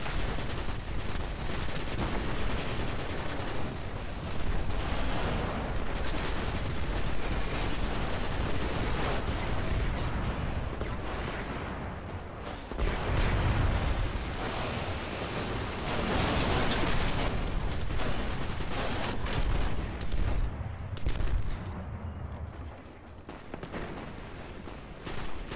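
Heavy gunfire and explosions from the video game Destiny on Xbox One during a hard-mode strike mission, a loud, dense and nearly continuous barrage of shots and blasts with no break.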